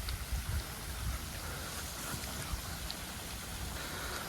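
Steady rain pours in a video game, a continuous dense hiss of falling drops with faint low rumbles, heard alone without talk.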